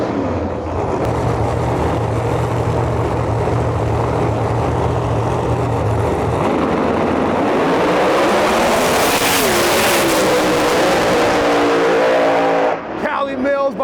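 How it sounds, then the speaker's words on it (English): No Time 275 drag racing cars, one a Camaro, launch down the strip. Engines roar loud and close, rev hard and rise in pitch as they accelerate away, with announcer commentary underneath. "Big matchup pulling up to the lanes right now."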